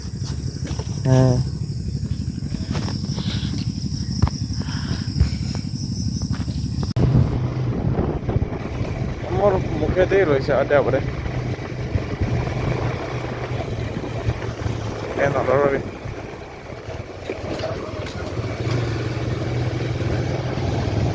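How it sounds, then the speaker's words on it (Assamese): A farming machine works a monsoon-season rice field with a steady low engine drone. Wind gusts buffet the microphone over it, and people talk on top throughout. "মেচিন দি খেতি কৰিছে এইবাৰ, এই মেচিন শব্দ শুনি আছে তই"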